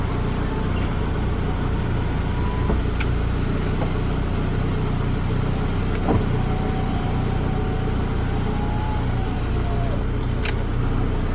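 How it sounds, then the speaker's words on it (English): Power windows of a 2001 Saab 9-3 convertible whine as they move, a thin motor tone rising and falling in two long runs, the second running several seconds, over a steady idling engine rumble with brief clicks at the stops. "We'll test the windows here."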